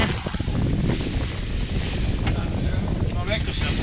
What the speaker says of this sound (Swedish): 16 knops vind och nu gör vi 5 knops fart utan motor